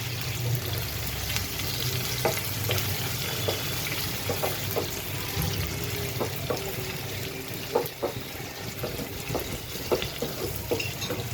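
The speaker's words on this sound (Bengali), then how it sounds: "খুব ভালো করে ভেজে নিচ্ছি" Chopped onion and crushed garlic fry in a pan for a vegetable curry, giving a steady close sizzle with scattered small pops and crackles throughout and no talking.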